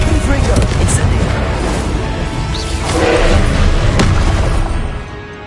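Spell effects from Confringo and Incendio being cast in the video game Hogwarts Legacy, a dense, loud roar of booming blasts and whooshes that swells in the middle and fades near the end.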